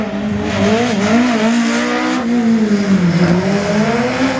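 Race car at the Saint-Lô slalom braking hard, engine note dropping then rising again with tire squeal, loud and close, steady throughout with no voices.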